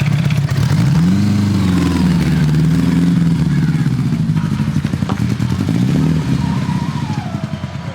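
A vintage Honda Gold Wing motorcycle engine idles steadily and loudly up close, its low throaty rumble wavering slightly with a faint clatter throughout.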